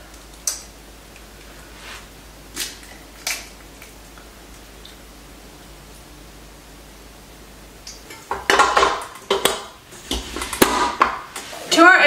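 Eggs are separated into whites in kitchen bowls: a few sharp taps and cracks on a bowl rim come first, then a busier stretch of shell clinks, sloshing and bowl contact near the end.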